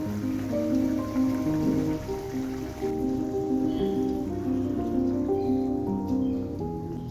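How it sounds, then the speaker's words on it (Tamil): Fish curry (meen kulambu) with added fish bubbling in a pot, a steady wet patter of small pops and bursts over a low simmering hiss, fairly close and unbroken. "இப்போ குழம்பு நல்லா கொதிச்சிட்ருக்கு"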